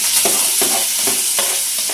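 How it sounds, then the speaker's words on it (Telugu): Onions and curry leaves fry loudly in a hot pan, a dense, close sizzle with rhythmic stirring scrapes every fraction of a second. "కరివేపాకు కూడా వేస్తున్నాం ఉల్లిపాయలు."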